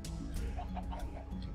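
A chicken in a video game clucks in short repeated bursts, steady and fairly close, over a constant low background hum.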